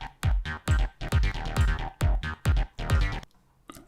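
Rolling progressive techno bass made in Serum and run through the Logic arpeggiator pulses in repeated short notes with deep thumps and bright tops, then drops out near the end before one last hit.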